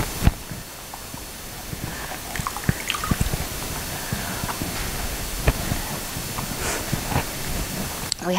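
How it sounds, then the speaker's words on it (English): Water trickles and drips steadily from a pressed sponge during paper making, with scattered close splashes and small clicks over a soft, constant hiss. "Soaking up the water, and watch how much water comes out."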